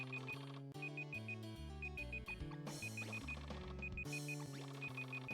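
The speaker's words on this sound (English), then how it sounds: "Let me shut the timer up." A kitchen timer alarm beeps in short repeated bursts, fairly faint, over loud upbeat music with steady chords and a thumping beat.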